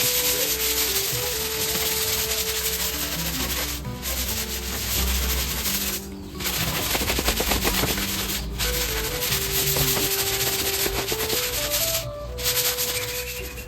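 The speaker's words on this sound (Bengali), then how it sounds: "স্টিলের জুড়াটা নিয়ে এসে ঘষে ঘষে তুলে নিচ্ছি" A steel scrubber rubs back and forth over a light turmeric stain, giving a close, steady scratchy scouring with brief pauses between strokes and no talking.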